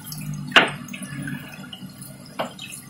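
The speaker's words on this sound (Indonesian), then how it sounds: "Gelembung udara kita kasih agak besar karena kondisi ikan yang sakit" Water gurgles and bubbles steadily in a koi tank where an aerator pushes out large air bubbles for sick fish, with a couple of sharper splashy pops standing out over the continuous low burble.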